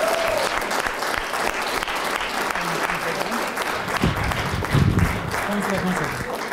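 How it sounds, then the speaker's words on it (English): Audience applause fills a talk venue with steady, loud clapping that continues throughout, while voices murmur and speak underneath. "another round of applause"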